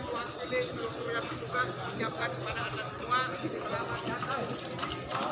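Horse hooves clip-clop steadily as a horse pulls a cidomo cart on Gili Trawangan, Lombok, moderately close under someone talking continuously.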